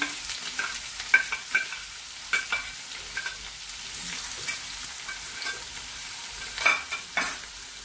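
Finely chopped onions and crushed garlic fry in a pan, a low continuous sizzle with occasional scraping stirs at irregular intervals, close and quiet, with no voices.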